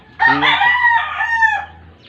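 A rooster crows once, loud and close, a single drawn-out cock-a-doodle-doo about a second and a half long over a low steady background hum.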